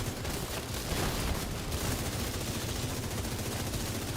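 Sustained gunfire while fighting a boss in The Division 2, a dense, continuous wash of shots and noise that stays steady and loud throughout.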